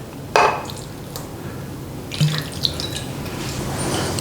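Three tablespoons of water poured into a pan holding brown sugar and smooth peanut butter, heard as a brief, faint splash and trickle over a low background hum.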